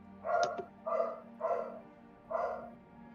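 Dogs bark in a steady series of four loud woofs, evenly spaced and fairly close, with a low steady hum underneath.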